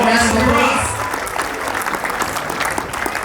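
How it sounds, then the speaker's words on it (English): Audience applause, dense clapping that starts loud with some voices over it, then settles into steady, slightly softer clapping. "Give a big round of applause"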